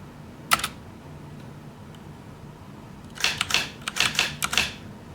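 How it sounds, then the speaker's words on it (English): A Brother AX-20 electric typewriter driven from a computer strikes keys, one isolated clack followed by a quick cluster of sharp mechanical strikes and carriage clatter, close and alone with no voices. "as I type, you can see it come across on the typewriter."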